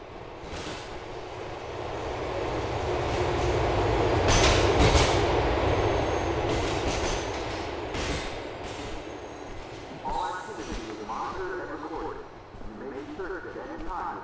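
Subway train pulling into a station in Grand Theft Auto IV, a loud rumbling roar with clattering wheels and a high squeal that swell and then ease as the train slows, with faint talk beneath.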